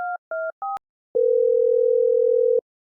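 Telephone on a call: three short dialing tones, then a single long steady electronic tone after a pause, loud and clean with no voices.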